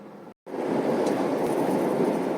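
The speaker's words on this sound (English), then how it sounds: "this is what it sounds like at 80 miles an hour on the freeway with the soft top" Steady broadband road and wind roar inside a 2000 BMW M Roadster with the soft top at 80 mph on the freeway, briefly cut out near the start before the constant rushing noise resumes.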